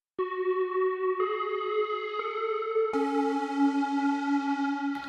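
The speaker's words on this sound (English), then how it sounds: "the next sound we got is this sound called gated sweeper" A gated sweeper synth patch from the Expand plugin gives sustained tonal notes that step through several pitches over a few seconds. The sound is clean, steady and alone, with a shimmering, swept character.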